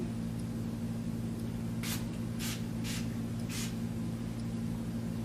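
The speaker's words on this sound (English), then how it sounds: "Starting with the energy clearing spray" Four quick spritzes from an energy-clearing spray bottle during a therapy session, evenly spaced, over a steady low hum.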